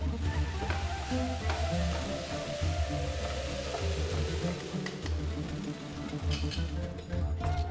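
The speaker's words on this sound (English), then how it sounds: "add the tomatoes and let it cook well" Onions and tomatoes cooking in a covered pan, a soft continuous sizzle with a low steady hum beneath it.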